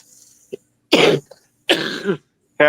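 Two harsh, heavy coughs close to the microphone, separated by short pauses, with small throat sounds and breaths between them.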